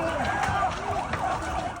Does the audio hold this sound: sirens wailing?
yes